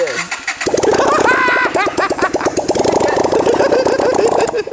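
A V-twin motorcycle engine fires up and runs with a loud, uneven pulsing putter, close by, with a voice talking over it briefly.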